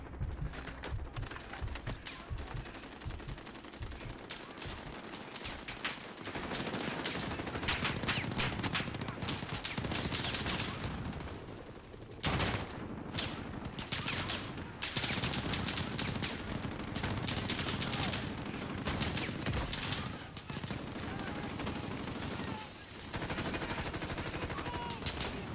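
Sustained automatic gunfire from Call of Duty: Modern Warfare gameplay, dense rattling bursts with mechanical clicks that run almost continuously for about twenty-five seconds and break off briefly midway.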